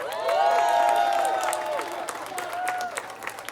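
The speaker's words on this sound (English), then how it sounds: "Give him another round of applause." Audience applause at a Juneteenth celebration gathering, dense clapping with whoops and cheers rising over it, loudest in the first second and a half before thinning to a lighter, scattered patter.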